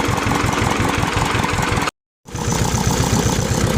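A car engine drones steadily at close range while driving out of a forest, a loud continuous mechanical rumble cut by a brief silent gap before resuming.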